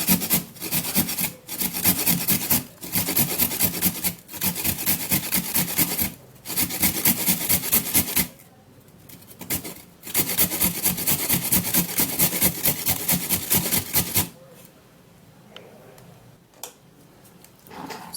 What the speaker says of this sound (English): we'd have to get the juice out of this carrot anyways, so I'm just going to be grating it